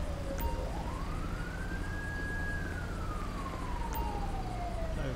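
An emergency vehicle siren in GTA V wails one long rising and falling sweep, steady and fairly close, over a constant low rumble of traffic and engine noise, with no talking.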